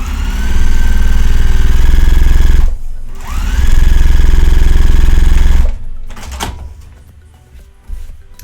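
Sewing machine stitching quilt fabric pieces in a paper-piecing block: two loud, fast, steady runs of needle chatter separated by a brief pause, then handling clicks of the fabric afterward.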